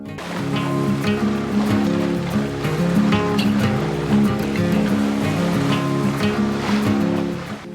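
Sailboat under way at sea in about 10 to 12 knots of wind, a loud continuous wash of waves and water rushing along the hull with rhythmic surges and splashes, no talking.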